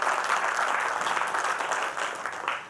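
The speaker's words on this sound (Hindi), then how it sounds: "अगर सही है तो अच्छे से ताली बजा दो।" Seminar audience clapping, a dense, continuous burst of applause from many hands that holds steady and then tapers off at the end.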